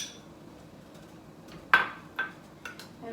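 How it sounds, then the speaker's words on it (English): A utensil scrapes onions and garlic out into a pot for soup stock and borscht, heard as several distinct metallic scrapes and clinks at irregular intervals, close and moderately loud, against a quiet background. "So let's scrape these out. Get all the garlic out."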